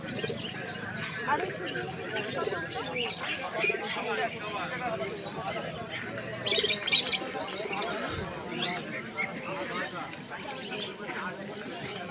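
Pigeons coo and chirp at a busy bird market in Birnagar, scattered soft calls and squawks rising over crowd chatter and someone talking nearby.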